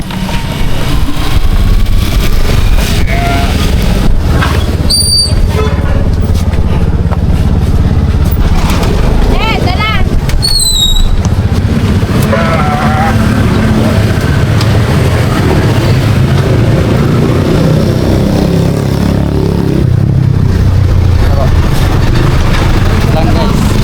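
Motorcycle engine idling and revving as the bike is turned around on a street, loud and continuous with people talking over it and brief background squeaks.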